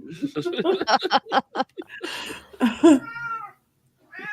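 A house cat meowing loudly several times in a row, with people talking and laughing around it.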